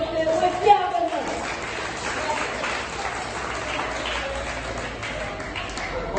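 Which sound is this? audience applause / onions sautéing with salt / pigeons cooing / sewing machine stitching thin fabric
audience applause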